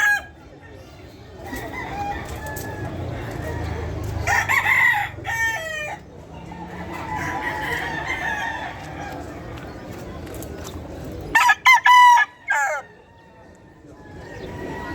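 Roosters crowing at a busy pet market in Malabon, several loud cock-a-doodle-doo calls in bursts, the clearest pair near the end, over crowd chatter, clucking and general market noise.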